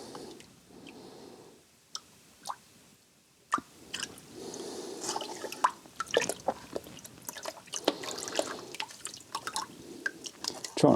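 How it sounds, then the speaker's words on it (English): Aquarium filter sponges are squeezed and rinsed in a container of tank water, giving close, irregular drips, plops and wet squishes that grow busier as the rinsing goes on. "Give each sponge a quick sort of rinse in tank water."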